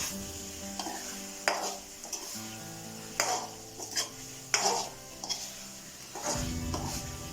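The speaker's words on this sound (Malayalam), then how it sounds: "ഞാൻ ക്യാരറ്റ് ഇട്ടത് ഒന്ന് ഇളക്കി കൊടുക്കാം" Carrots being stirred into biryani in a pan, heard up close as a series of irregular spatula scrapes and knocks against the metal over a soft sizzle, with no speech.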